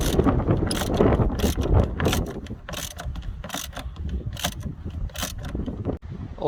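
A 13mm socket on a ratchet loosening the battery holder screw in a Dodge Grand Caravan, rapid bursts of close metallic clicking repeating in short runs over faint background noise.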